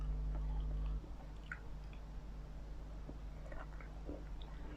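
Durian being chewed and eaten up close, with soft, squishy mouth sounds and occasional faint clicks over a steady low background hum.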